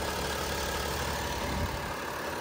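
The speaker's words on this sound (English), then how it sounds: "Engine sounds great, runs well." A 2009 BMW 335d diesel engine idles with a steady, even rumble that stays close and constant throughout, with no talking.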